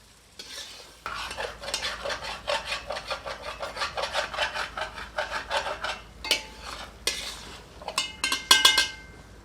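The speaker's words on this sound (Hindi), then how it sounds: "सबको मिलाकर 2 से 3 मिनट मध्यम आंच पर भूनते हैं।" A cashew, poppy seed and melon seed paste is roasted over medium heat for a Mughlai korma, with rhythmic rasping spatula strokes scraping the pan under a faint sizzle, ending in a few louder knocks.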